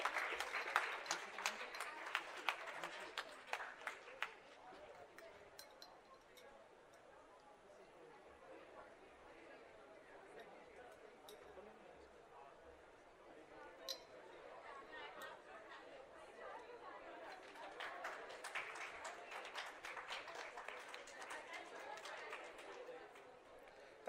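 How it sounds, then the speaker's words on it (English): An audience at an orientation day at BITS Pilani, Dubai Campus, claps for a prize winner, heard as faint, distant applause with scattered chatter. The clapping swells at the start and again near the end. "Huge round of applause for her."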